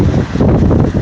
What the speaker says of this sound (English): Excuse me, it's windy.